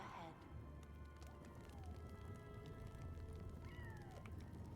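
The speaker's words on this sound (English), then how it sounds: "Meow! cat." A cat meows several times in the video game Split Fiction, short rising and falling calls set against steady game ambience and low background hum.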